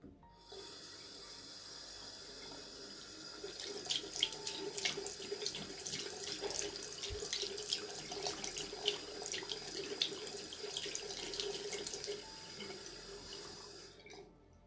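Water runs steadily from a tap into a sink while a face mask is rinsed off, a continuous close rush with added splashing in the middle, and no talking.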